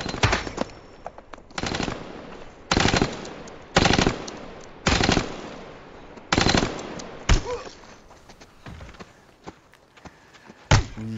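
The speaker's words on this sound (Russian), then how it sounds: "старый снайпер воспользовался возможностью и выстрелил сквозь препятствие" Sharp, loud gunshots from a sniper in the film Jack Reacher ring out one after another at irregular intervals, each with a short echoing tail, no voices.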